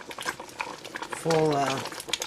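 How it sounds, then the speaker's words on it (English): Peach jam boils in a pot on a stove at full heat, giving soft irregular bubbling pops, with a brief tonal clatter or hum in the middle of the clip. "It's an indication that it's boiling down here."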